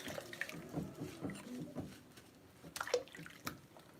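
Dishes and household items are washed under running water at a sink late at night, a soft splashing and trickling with faint clinks and knocks, quiet and close, with no talk.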